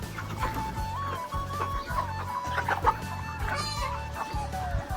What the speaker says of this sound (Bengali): এখন আসে মুরগির হাসি তোমরা আশা করছি যে আন্দাজ করতে পাইতেছো হাসির শব্দ